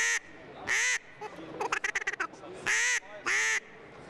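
A duck call lure blown in bursts to mimic duck quacks, with two long loud nasal quacks, then a rapid run of short clucking notes, then two more long quacks, close and clear.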